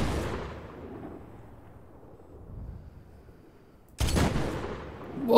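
Gunfire in the Medal of Honor video game during a sniper fight: a loud blast at the start fades out, then a quiet stretch is broken by another sharp burst of shooting.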